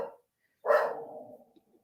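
A single loud, close bark from a German Shepherd dog, trailing off into a fading growly tail, with silence before it.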